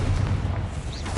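A Confringo blasting spell goes off in Hogwarts Legacy, a single booming burst of game explosion with a rumbling low tail, loud and close, with no talk over it.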